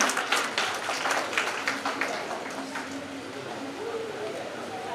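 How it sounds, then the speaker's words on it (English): A conference audience applauds its participants, a dense, steady clatter of many hands clapping that fades a little toward the end. "I request everyone to please give a round of applause for all the participants"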